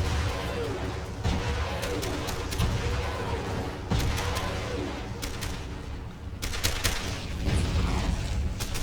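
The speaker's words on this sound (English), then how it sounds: "More rockets." Rockets fire and explode in a Men of War battle: loud repeated booms and crackling bursts of blasts and gunfire come in clusters over a constant rumble of combat.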